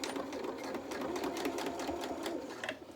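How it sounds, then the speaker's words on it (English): A sewing machine stitches a straight seam with a quarter-inch seam allowance, a rapid, even whirring chatter of needle strokes held at close range for a few seconds. "So let's get the sewing machine."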